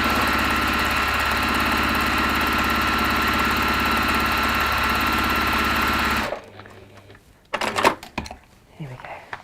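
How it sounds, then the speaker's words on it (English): A sewing machine stitches textile for about six seconds, a loud, close, steady hum with a rapid rhythmic beat, then stops and leaves quieter handling noises and brief clatter. "Just sewing and just sewing."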